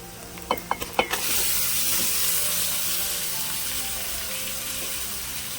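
Chicken with turmeric and coriander drops into a hot pan for a chicken gravy curry. A few clinks and taps come first, then a loud, steady sizzle of frying sets in and holds, close up.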